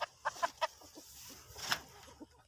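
Chickens cluck in short, quick bursts, several close-by hens calling intermittently over a quiet background beside a pumpkin vine.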